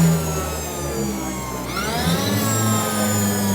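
A Harley-Davidson LiveWire electric motorcycle running on a dyno gives a loud whining electric drone with tonal whirs that dip and sweep back up midway, continuous and close, with no talk.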